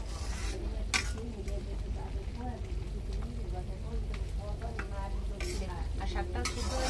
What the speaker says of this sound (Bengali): ঝোলটা কত সুন্দর ফুটতে শুরু করে দিয়েছে।